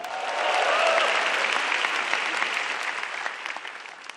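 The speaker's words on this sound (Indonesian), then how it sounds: "tepuk tangan untuk Balai Sarbini" An audience at a stand-up comedy grand final in Balai Sarbini, Jakarta, breaks into full, continuous applause that swells early and slowly fades over several seconds.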